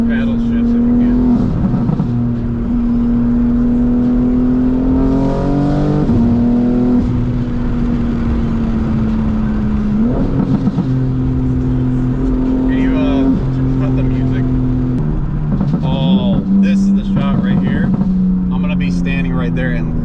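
A BMW G80 M3 engine revs steadily with stepped pitch changes from paddle shifts, loud and close inside the car, with voices talking over it.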